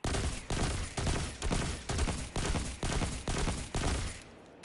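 Automatic weapon fire in the video game Destiny 2: about eight loud, dense bursts of gunfire in an even rhythm, each roughly half a second long, heard alone and close.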